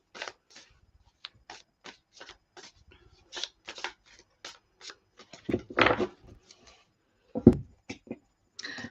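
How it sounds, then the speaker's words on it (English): Tarot cards are shuffled by hand at close range in a quiet room, a series of crisp riffling and tapping bursts with brief pauses between them, ending in a louder thump as the deck settles. "You saw me shuffle, okay?"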